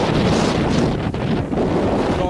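Strong wind buffets the microphone outdoors in rainy weather, a continuous loud roaring rush with gusty swells and no speech.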